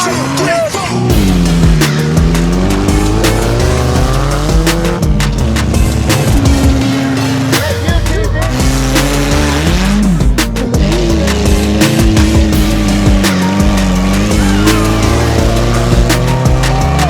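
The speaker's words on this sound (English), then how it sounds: "Wheel-to-wheel off-road racing, and everyone has a different junk car." Junk cars race wheel-to-wheel off-road with no power steering, engines revving and rising and falling in pitch up close amid rattles and bumps, with voices shouting over the din throughout.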